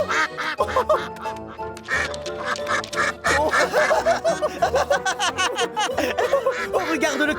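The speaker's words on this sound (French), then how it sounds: "Oh, regarde le canard!" Cartoon duck quacking on a Thomas the Tank Engine animated show, repeated quacks woven into busy bright background music with light chuckling sounds, close and fairly loud.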